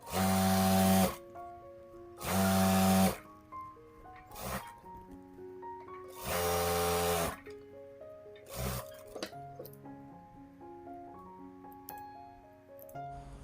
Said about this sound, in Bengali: কাপড় এবং রাবার একসাথে ধরবেন ধরার পরে আবার এভাবে টান দিয়ে মিডল সেন্টার দিয়ে সেলাই দিতে হবে